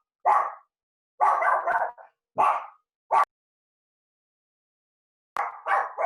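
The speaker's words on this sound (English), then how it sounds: "oh, sorry, my dog" A dog barks in several short bursts, moderately close, with gaps of silence between the barks and a final cluster near the end.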